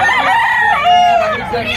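A gamefowl rooster crows loudly and close by at a fowl fair in Padre Garcia, one full rising and falling crow, with faint crowd chatter in the background.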